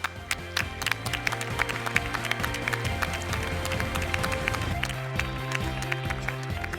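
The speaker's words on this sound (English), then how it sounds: "Please give her a warm round of applause." A conference audience at the FIFA Women's Football Convention applauds a panelist with scattered, continuous clapping layered over steady background music throughout.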